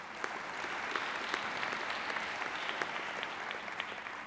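Audience applause at a college convocation, a steady wash of many hands clapping at moderate distance, sustained evenly throughout with no voices over it.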